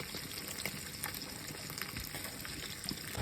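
Masala-marinated fish sizzles and spits in oil in a frying pan, a steady soft crackle with occasional brighter pops over a constant hiss, heard faint and alone.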